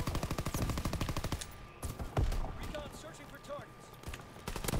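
Rapid automatic gunfire in Call of Duty WW2, a dense burst of evenly spaced shots opening the clip, then scattered single shots and impacts amid battle noise while a player talks.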